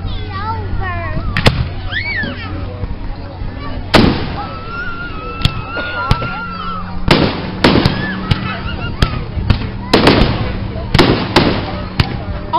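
Fireworks exploding at a July Fourth–season show at Kenlake State Park, with sharp bangs and booms at irregular intervals, several close together, over a murmur of people talking and distant geese honking.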